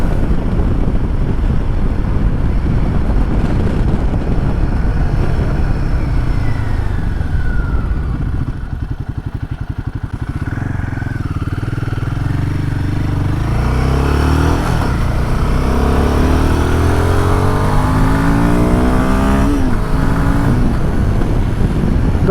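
Royal Enfield Himalayan 452 motorcycle with a 40-horsepower engine accelerating on the road, its engine note rising through the gears under steady, loud wind buffeting throughout.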